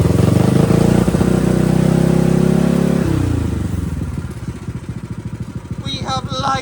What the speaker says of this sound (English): a motor that actually sounds pretty healthy